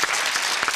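Studio audience applauding a contestant on a UK game show, a dense, steady burst of clapping with no voices over it.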